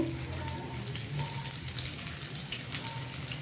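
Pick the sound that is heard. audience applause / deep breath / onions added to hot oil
onions added to hot oil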